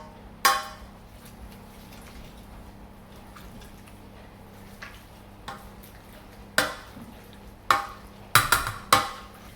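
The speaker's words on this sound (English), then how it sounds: "with our parsnip, our turnip or swede, and we're going to mash that." Parsnip and turnip (swede) mashed with butter in a pot: scattered sharp knocks and clacks of the masher against the pot, sparse at first, then bunching into a quicker cluster near the end, over soft background noise, with no talking.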